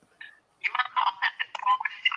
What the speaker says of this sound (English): Can you guys still hear the ringtone from here?